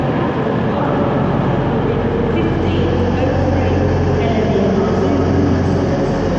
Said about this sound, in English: This is our train we're taking.